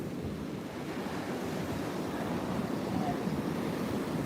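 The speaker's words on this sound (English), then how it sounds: "you noticed that the waves are a little bit more agitated" Agitated ocean waves breaking on a cold, windy Virginia Beach shore, a continuous loud roar of surf mixed with gusting wind buffeting the microphone.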